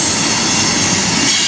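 A CSX freight train hauled by ES44AC-H and SD50 locomotives passes close by in Holly, Michigan, a loud, continuous roar of wheels and rolling cars with no voices.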